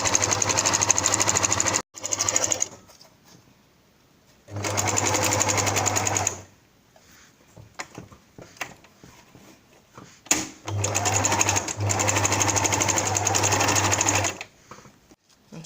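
Three runs of steady, loud sewing machine stitching on a scarf crown, separated by pauses filled with soft handling and fabric rustling.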